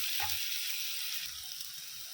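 Ginger garlic paste sautéing in a hot pan for chicken thokku: a steady, close hiss of oil sizzling, broken by a few soft scraping stirs, with no voices.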